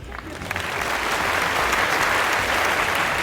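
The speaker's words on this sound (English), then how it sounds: "Round of applause, everyone" Steady applause from a crowd at a wedding reception, building quickly and holding loud and dense throughout.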